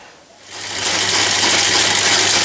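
Metal lathe taking cuts on a part held in a three-jaw chuck, a broad hissing, scraping cutting noise that swells in after a quiet start and holds steady, close and loud, no speech.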